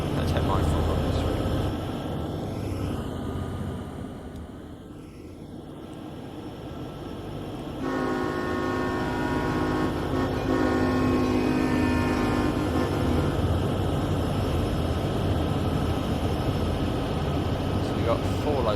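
Heavy freight train hauled by five SD70ACe diesel locomotives in a train simulator, a steady deep engine drone at moderate volume with a tonal hum joining partway through.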